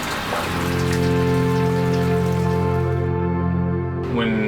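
Rain falls steadily in the Alaskan outdoors, a continuous patter beneath a loud tonal hum that cuts out near the end.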